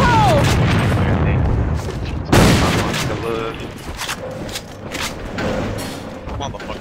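A grenade blast in an online shooter game, a loud sudden boom mid-clip amid ongoing gunfire and clattering, with someone talking around it.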